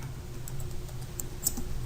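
Light keystrokes on a computer keyboard, faint and scattered clicks over a low steady background hum, no voices.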